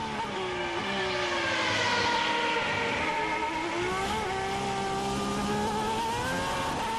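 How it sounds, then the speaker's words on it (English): A Superleague Formula race car engine howls and strains through the gears exiting a chicane at Zolder in 2011, revs wavering and tires scrabbling for grip, loud and continuous with no talk. "Can really hear the car struggling for traction on the exit there as well."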